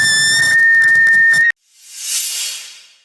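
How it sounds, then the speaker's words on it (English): A high, steady whistle from the door of a new Jayco Entegra motorhome, loud and sustained with pulsing overtones, cutting off abruptly and followed by a soft swelling hiss. "The door has this whistle that literally almost drove us insane."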